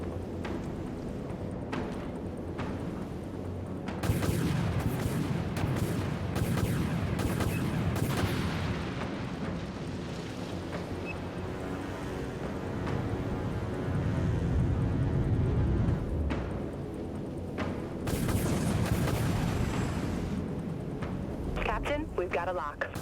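Missiles slam into targets in a naval combat game, loud explosions and rumbling blasts bursting in waves over a dense battle din, with a voice talking throughout.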